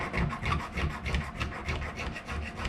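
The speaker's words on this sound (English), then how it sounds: "Give that a little bit of a bit of clean to get the zinc or galv or whatever's off it." Rhythmic rasping strokes scrub zinc galvanizing off a metal part for a 1946 Chevy pickup repair, a steady back-and-forth abrasive scraping repeated several times per second, close and moderately loud.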